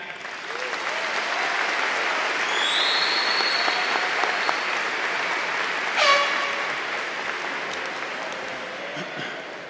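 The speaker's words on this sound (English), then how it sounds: "We have a round of applause for everyone who made today happen" A graduation ceremony crowd applauds the organizers with a long, loud, even roar of clapping and a few whistles rising over it.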